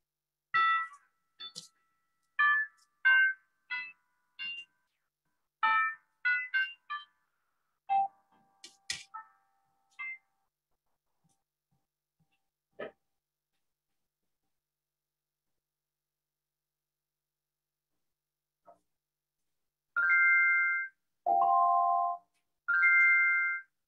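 Church chimes played during Sunday worship before the prelude: a series of clear, bright ringing tones in short melodic phrases, a long pause, then a few sustained chime notes, moderately near in a quiet room.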